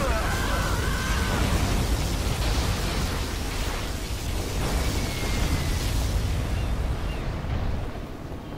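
A particle cannon fires in the strategy game Zero Hour, playing the USA Airforce General, producing a sustained loud roaring blast and rumbling explosion that fills the whole stretch before easing off near the end.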